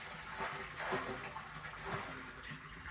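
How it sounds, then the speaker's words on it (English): Water rushing down an underground channel toward the harbour in Goodwick, Wales, a steady broadband gush that swells and eases slightly across the clip, heard continuously at moderate level. "You can hear the water coming down."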